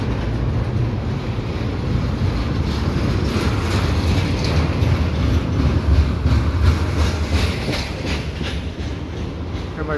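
A CPKC intermodal freight train rolls past at Dorval, a steady loud rumble with rhythmic clickety-clack of wheels over rail joints, continuous throughout with no voices.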